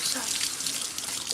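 Water runs steadily from a tap into a sink while barbecue sauce is washed off, a close, continuous splashing hiss.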